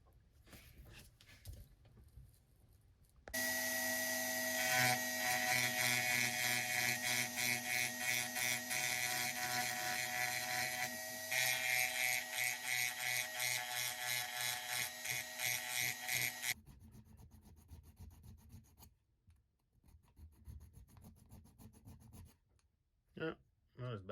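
A Dremel rotary tool grinds built-up paint off a die-cast Matchbox Boss 302 Mustang, a loud steady high-pitched whine running for about thirteen seconds before cutting out, followed by quieter intermittent scraping of filing.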